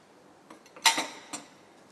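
Egg yolks, sugar and flour mixed in a bowl, heard as a few quiet clinks of a utensil against the bowl over near silence.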